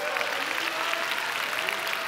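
A congregation claps for the fathers at a Sunday church service, a dense steady wash of applause from many hands filling the room for about two seconds without a pause.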